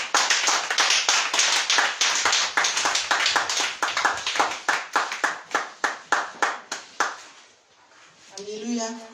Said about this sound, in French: on acclame le Seigneur pour ce témoignage.